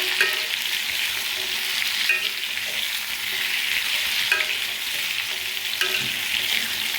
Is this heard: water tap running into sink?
no